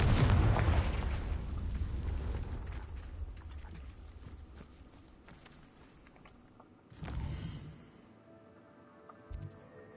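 A Confringo blasting spell explodes in the Hogwarts Legacy video game, opening with a loud, booming burst that rumbles and fades over several seconds, followed by a second, smaller blast and a brief pop near the end.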